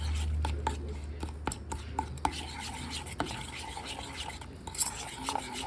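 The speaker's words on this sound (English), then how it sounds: "we're just gonna take this and whisk this all up" Meatloaf sauce ingredients with light brown sugar being whisked in a bowl, a close, quiet run of quick scraping and tapping strokes with irregular clinks of the whisk against the sides.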